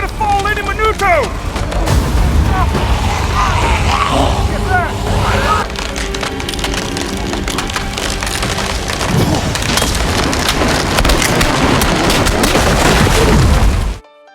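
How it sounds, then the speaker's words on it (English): A burning tree falls after a fire, with splintering, cracking wood and a heavy crash followed by rumbling debris, loud and close, with shouting voices over parts of it before it cuts off. "Everyone steer clear of that tree! It's gonna fall any minuto!"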